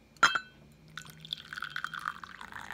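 After a sharp clink of vintage bone china, black tea pours steadily into a cup, a soft trickling splash that continues to the end.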